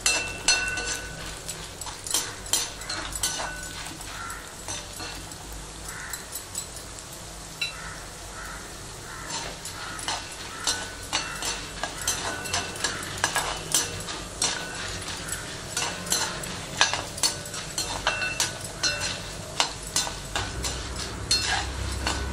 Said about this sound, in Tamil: இது நல்லா ப்ரௌனிஷ் ஆகிற வரைக்கும் நம்ம ஃப்ரை பண்ணணும்.